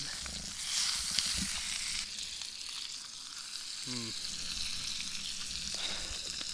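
Fish seasoned with lemon frying in a pan of soy sauce and butter, a steady close sizzle running throughout with a few faint clinks and scrapes.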